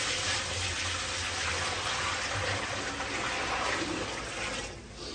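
Water gushes in a steady, continuous stream from a pot onto five kilograms of soaked rice, a close, full pouring sound that eases slightly toward the end, with no speech.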